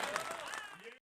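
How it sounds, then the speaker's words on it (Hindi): A brief burst of faint audience applause at a Hindi comic poetry recital, clapping mixed with voices before cutting off abruptly. "लगातार तालियां बजनी चाहिए"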